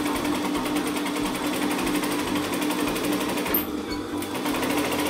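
A sewing machine stitching gathers into fabric, a loud, close, continuous rhythmic whir with a fast steady needle beat throughout.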